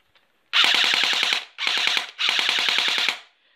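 A CYMA M4A1 full-metal airsoft replica dry-firing on full automatic, three rapid mechanical bursts of rattling clicks, the first longest with short gaps between bursts, close and loud with no talk.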